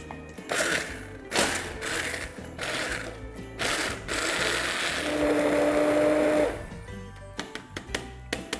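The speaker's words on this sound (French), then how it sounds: "Je récupère toute ma masse. Et on va la mixer." Kitchen blender mixing a vanilla dessert mixture for a Christmas cake: several short bursts of loud whirring, then a sustained steady run of about two seconds, followed by faint clicks and handling noises.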